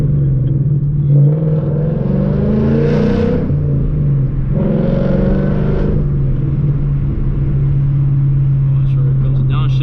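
A manual car's engine revs up twice in two brief swells during a downshift, set over a steady loud cabin drone and road rumble.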